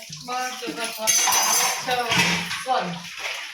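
Dishes and cutlery are scrubbed and washed at close range, giving clinks and scraping rattles of utensils mixed with splashing water, while voices talk over them.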